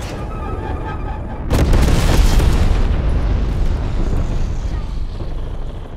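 A napalm strike in Call of Duty: Black Ops Cold War erupts as a sudden loud explosive burst that rolls into a sustained roaring, crackling rumble and slowly fades, with brief speech beneath it.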